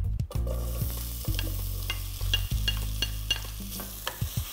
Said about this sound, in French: Ensuite, on ajoute l'oignon.